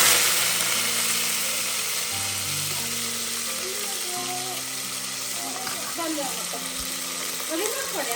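Mustard seeds crackle and pop in hot oil in a home kitchen while dinner cooks, a steady broadband sizzle with scattered sharp spits throughout, close and fairly loud, alongside faint clinks of stirring.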